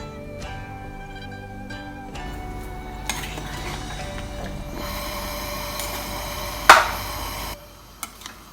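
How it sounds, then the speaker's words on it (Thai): A spoon scrapes and clinks in a pot of pork bone soup seasoned with fermented fish sauce. Steady kitchen clatter runs over a constant hum and closes with one louder knock near the end. "คนให้เข้ากันนะคะ"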